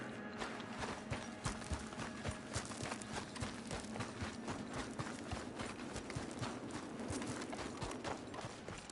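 Horse hooves clip-clop steadily in Red Dead Redemption II, a quick regular beat of hoofbeats at a walk or trot, fairly quiet and continuous with no voices over it.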